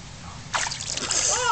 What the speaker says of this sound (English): Splash it back, Lily